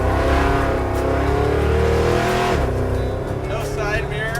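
A nitrous-equipped muscle truck with driveshaft vibration, no side mirror and poor brakes accelerates onto a freeway, its engine a loud, sustained roar with gear-change dips from inside the cab.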